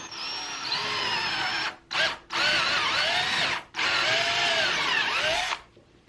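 A corded power drill whines loudly through several bursts, its pitch dipping as it bites into wood, with brief pauses between runs.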